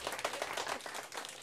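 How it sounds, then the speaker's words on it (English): Elementary and high school students clap briefly after a toothbrushing demonstration, a quick, fairly faint patter of hands in a room. "Everybody give a round of applause."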